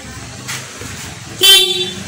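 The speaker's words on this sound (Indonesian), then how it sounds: "Nah, klakson menyala Pak" A Yamaha Aerox scooter horn gives two short beeps, the first brief and softer and the second louder and sharper, while the scooter is being checked for a fuse that keeps blowing.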